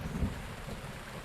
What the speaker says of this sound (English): I'm going to wait for it to stop raining, obviously